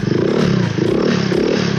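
A Keeway Icon 110 scooter engine runs at idle with its diaphragm carburetor bypassed, giving a close, loud, steady putter with rhythmic pulsing and a mechanical clatter, and no talk.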